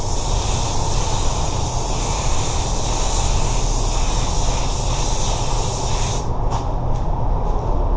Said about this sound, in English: I'm going to do my drop coat